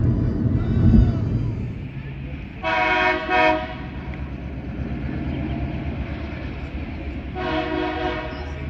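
A Norfolk Southern-heritage SD70M-2 locomotive rumbles past nearby with a continuous low drone, sounding two loud multi-tone horn blasts a few seconds apart.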